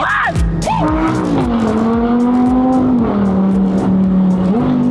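Lamborghini Gallardo Squadra Corsa engine arriving, loud and close, its rising and falling revs carrying sharp tonal engine notes that settle into a steady hum, with a faint voice briefly under it.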